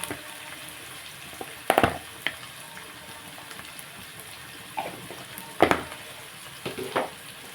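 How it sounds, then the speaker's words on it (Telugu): Gentle frying sizzle of onions with turmeric and salt, with a few scraping stirs of a utensil in a pan, fairly quiet, no voices. "మనం దీన్ని కొంచెంసేపు ఉల్లిపాయ ఫ్రై చేసుకున్నాండి"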